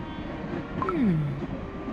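A train sound effect from the video game Cookie Run Kingdom's holiday express story: a short whistle-like tone that slides downward over a steady rumbling background, heard alone without speech.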